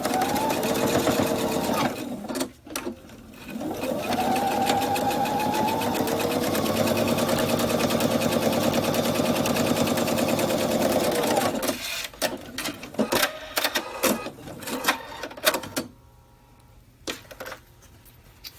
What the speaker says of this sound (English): we are just going to top stitch right along our top edge.